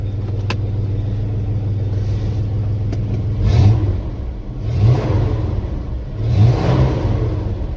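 A car engine that has just been restarted while hot idles with a steady low rumble, rising three times into short revs that swell and fade at close range, with no talk over it.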